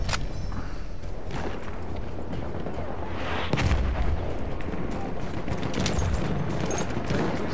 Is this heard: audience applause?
no